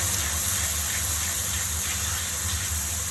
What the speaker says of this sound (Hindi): थोड़ा सा पानी शामिल करेंगे ताकि मसाले ना जलें।